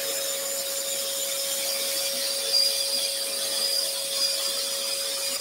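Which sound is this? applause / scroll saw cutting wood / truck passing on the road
scroll saw cutting wood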